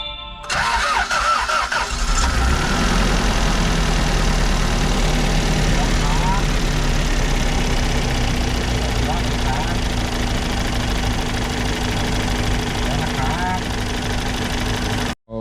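A Toyota 3S engine fitted into a Chinese pickup cranks and catches, then settles into a steady, loud idle that runs on for several seconds, with a person talking over it.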